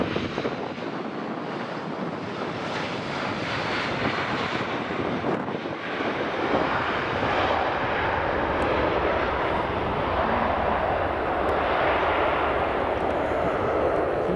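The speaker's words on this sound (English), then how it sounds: "Right, that's EasyJet just landing." An EasyJet passenger jet roars past while landing at Edinburgh Airport, with a broad, wind-buffeted rushing noise that holds steady and loud throughout.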